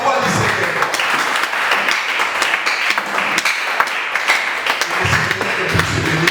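A church congregation breaks into dense, sustained applause, many hands clapping together loudly and evenly, with voices mixed in beneath.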